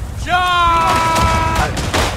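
Booming artillery fire and gunshots in the World War I shooter Verdun, set in the Argonne, with a short loud burst near the start trailing into rumbling blasts while a voice calls out over them.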